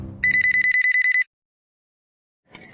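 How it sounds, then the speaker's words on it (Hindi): A landline telephone rings with a rapid electronic trill lasting about a second, then silence before a second ring begins. "तुम लैंडलाइन पे फोन कर रहे हो"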